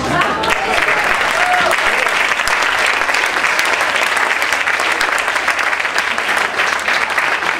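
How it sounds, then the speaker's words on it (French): Loud, continuous applause fills a room as an audience claps for artists and scientists bowing at a plankton science event, a thick even wash of many hands with a faint voice or two underneath. "vous pouvez applaudir encore"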